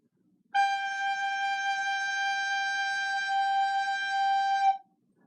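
A recorder plays a G with slow, gentle air, giving one clear, steady, pure note held for about four seconds in a quiet room.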